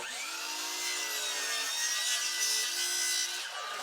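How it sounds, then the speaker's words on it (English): Hand saw or miter saw cutting a 45-degree bevel through wood trim during a rental property renovation, a steady continuous rasping cut lasting several seconds at close range, with no talking. "I unlock and flip the blade over so that it's at a 45-degree bevel, and I make a clean cut on the first end"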